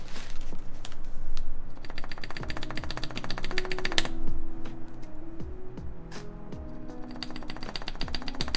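Someone types fast on a newly built Omnitype Bauer Lite mechanical keyboard, with dense close clacking keystrokes and a few louder spacebar hits, and no voices.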